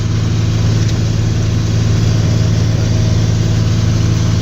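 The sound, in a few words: tractor engine running in a hayfield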